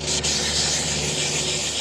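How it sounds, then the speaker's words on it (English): Steady, continuous abrasive sanding of paint on a Harley-Davidson Dyna Super Glide motorcycle fender, a dry even rubbing hiss that carries on without pause, close up. "you'll see me kind of sanding the whole entire area"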